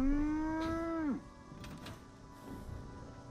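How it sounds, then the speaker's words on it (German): A cow in Fallout 76 gives one drawn-out moo lasting about a second, close and clear. Only faint background noise follows. "Und dann können wir ab und zu mal unsere Kuh hier melken"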